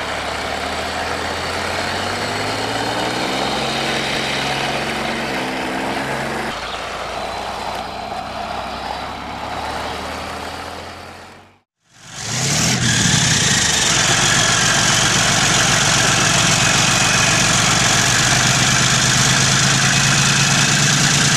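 A 1/16 scale Leopard 2A6 RC tank runs its simulated engine sound, a steady droning rumble with shifting tones, cut by a brief silence before a harsher, louder running noise resumes.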